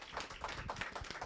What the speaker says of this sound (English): I would like to give you a round of applause to our facilitator